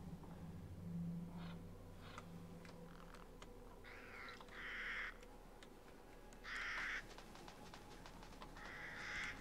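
Crows cawing in Resident Evil Village, several short harsh calls in bursts spread across the scene over a low ambient drone, moderately distant.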